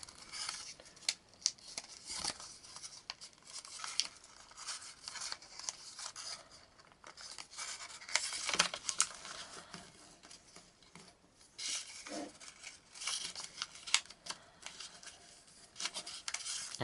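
Paper being folded for an origami dragon makes faint, close crinkling and rubbing with soft crisp creasing bursts scattered throughout, and nothing else in a quiet room.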